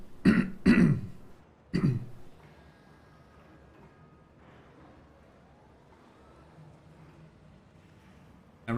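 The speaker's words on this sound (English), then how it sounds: "Next time you don't get the coughing." Three loud, close bursts of coughing and throat clearing, two in quick succession and a third a moment later, followed by quiet background hum and a final cough starting at the end.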